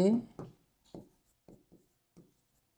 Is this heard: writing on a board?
yes